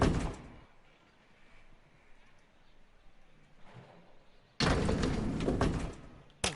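An elevator door in an L.A. Noire building slides and thuds, a loud whooshing sweep at the start, a quiet stretch, then another long sliding rush ending in a knock.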